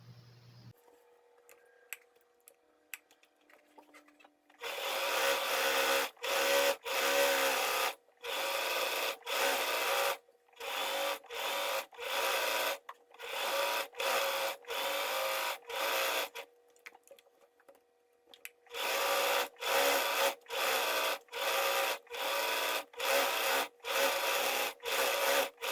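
A sewing machine runs a tight zigzag stitch, with a very short stitch length, around a heart shape on a cotton dish towel. It whirs loudly in repeated short bursts separated by brief stops, after a quiet start.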